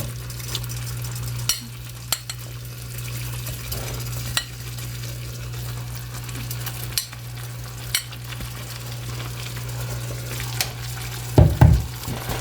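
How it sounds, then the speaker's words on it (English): Peppers and onions sizzle steadily in a hot pan on a stove, with a constant hum underneath and occasional spatula scrapes and clinks, ending in a louder burst of stirring. "So now I'm going to add the peppers and the onions back in."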